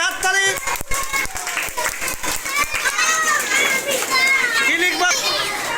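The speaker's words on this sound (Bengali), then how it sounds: "হাততালি, হাততালি।" Children in a classroom clap in quick, sharp bursts near the start, then their lively chatter and overlapping young voices carry on loudly over scattered claps.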